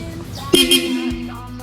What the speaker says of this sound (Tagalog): Tingnan nyo kung malakas yung busina ko